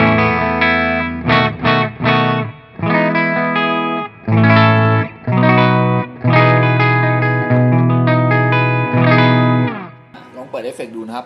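Clean-toned electric guitar played through an Apezila Romeo tube distortion pedal with the effect off, a string of strummed chords and picked notes with short pauses, up close and without talk.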